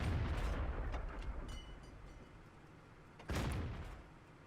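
Heavy cannon fire booms in a tank video game involving a Challenger tank destroyer, with two loud blasts, one at the start and one near the end, each trailing off into a rumbling decay.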